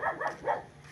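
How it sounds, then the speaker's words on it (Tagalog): A dog barks three times in quick succession, fairly near and clear, replying to someone calling out at a house in a residential compound. "Sumagot sa akin aso."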